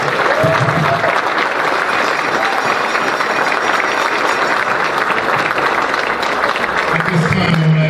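A crowd at the 2017 Mid Mon Valley Hall of Fame induction ceremony gives loud, continuous applause. Thick, even clapping fills the room without a break.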